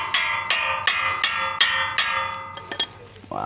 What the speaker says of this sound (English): We'll use our Cresson hammer.